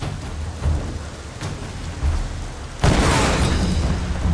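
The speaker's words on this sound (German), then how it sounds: "Schon wieder explodiert hier alles." Deep booming explosions in the video game Tomb Raider erupt one after another, the last one loud and close, bursting into a broad roar over steady rumbling game noise.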